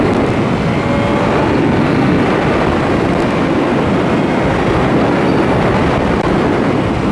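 A 2020 BMW S1000RR motorcycle engine screams loud and steady at high revs while riding, a sustained roaring drone with no talking over it.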